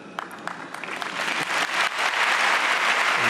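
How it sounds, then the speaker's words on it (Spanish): Congregation applause builds from scattered claps into sustained, loud clapping at a solemn pontifical beatification Mass in Madrid, spreading through the crowd and swelling steadily over a few seconds. "Ha sido interrumpido por un aplauso cuando ha mostrado el agradecimiento al Santo Padre"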